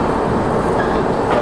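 Trivandrum Rajdhani Express running on the Konkan line: a loud, close, continuous rumble of rolling wagons and wheels on rail, dense and steady throughout the short burst.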